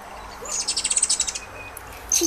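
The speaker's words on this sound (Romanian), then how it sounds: "Oh, păsărelele! Păsărelele!" Hummingbirds chirp from an augmented reality app: a quick rhythmic series of about ten bright, high tweets, followed by a faint call and a short shrill burst near the end.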